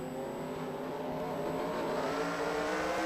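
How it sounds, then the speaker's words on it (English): NASCAR race cars rolling in a SEGA racing video game, a steady engine drone with harmonic whine rising slightly in pitch, near and continuous, no talk. "And the cars are rolling."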